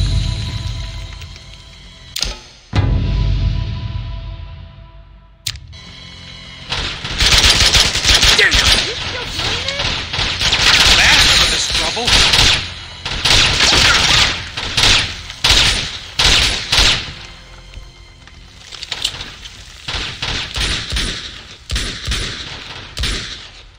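Rapid gunfire bursts from a shootout in the video game Uncharted 2, loud and repeated, with a few sharp single shots before a sustained stretch of fusillade, mixed with in-game voices and effects.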